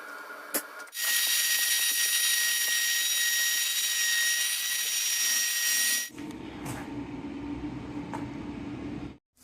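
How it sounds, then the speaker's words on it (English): A router whines loudly and steadily for several seconds as it cuts beveled edges on black walnut, then cuts off, leaving a lower rumbling grind. "I'll be using my workbench to route beveled edges on two sides"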